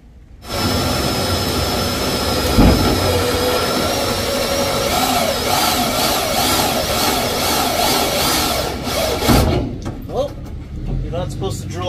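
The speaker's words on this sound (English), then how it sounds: "it'll just cut a circle around the spot weld so you can remove the panel" A spot weld cutter drills a circle around a spot weld to free a car body panel, giving a loud, steady grinding whir for about nine seconds that drops off near the end, with people talking around it.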